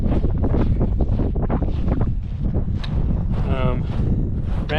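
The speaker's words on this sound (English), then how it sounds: "Wind doesn't seem as bad." Steady wind buffeting a microphone, a loud low rumble filling the whole clip, with a voice faintly underneath.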